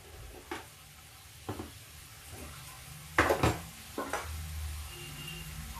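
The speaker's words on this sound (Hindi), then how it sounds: "अब इसको हम भूनेंगे थोड़ी देर, जिससे इसका मसाला कच्चा नहीं रहे" Masala roasting in a pan, with a soft background sizzle broken by a few separate scraping stirs and clanks of a spoon on the pan.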